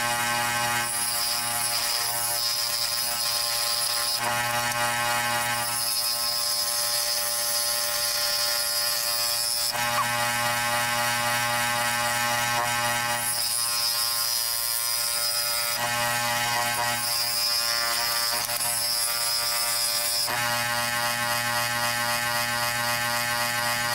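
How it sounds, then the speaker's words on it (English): A power saw trims a wooden knife handle, a loud continuous whine that swells and dips as the cut progresses, with no talk. "I can probably take it to the saw and trim quite a bit of this off"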